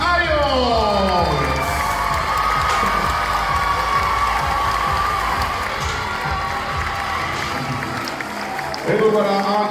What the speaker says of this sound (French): je vais vous demander d'applaudir très fort Leslie Ayon